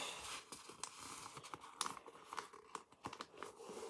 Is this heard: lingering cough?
no